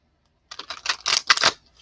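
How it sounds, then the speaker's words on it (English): Playing cards being shuffled in a few quick riffling bursts, close and fairly loud, with a short silence before they start and no talking over them. "I'm going to shuffle these real quick, shuffle them up"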